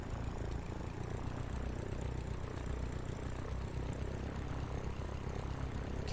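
Steady drone of a Cessna propeller engine in the Pro Pilot '99 flight simulator, a continuous even hum with no breaks across the whole stretch and no talking.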